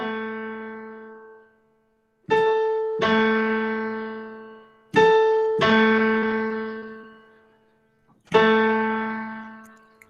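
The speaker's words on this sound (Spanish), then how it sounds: "si yo toco una nota que sería el La de la octava inferior o de la octava más baja" Single sustained plucked notes of A at 220 Hz ring out and slowly fade, each struck again after a pause, clean and close with no voices.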